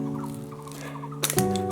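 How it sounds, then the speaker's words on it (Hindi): Many birds call along a forest hiking trail near Haldwani on the way to Hedakhan Ashram. Sustained tonal calls overlap, and a sharper burst of chirping breaks in near the end. "चिड़ियाँ बहुत है यार यहाँ पे, बहुत चिड़ियाँ हैं।"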